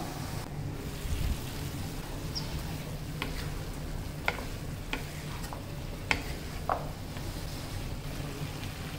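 Turmeric and ginger-garlic paste frying in oil for a potato filling, a soft steady sizzle with occasional faint clicks and scrapes, fairly quiet and continuous with no talking.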